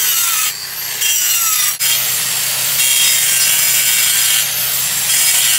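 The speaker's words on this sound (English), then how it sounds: "I'm gonna take this, kind of just scrape it along to start smoothing it out." A tool scrapes back and forth along a roughly chopped stone sill to smooth its surface, producing loud, gritty rasping strokes close up with brief pauses between passes, and no voices.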